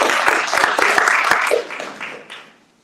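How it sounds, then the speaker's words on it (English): Applause from a press-conference audience for swimmer Riley Gaines at a Women's Bill of Rights event, a short burst of clapping with a few distinct sharp claps that thins out and fades within three seconds. "I just want to give you a round of applause"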